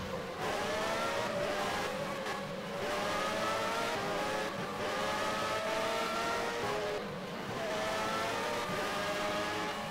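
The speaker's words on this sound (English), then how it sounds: "So this is the Lotus car we're on board with." Lotus Formula One car in a racing video game on the Nordschleife, engine screaming loudly and continuously from on board, revs rising and dropping through gear changes without pause.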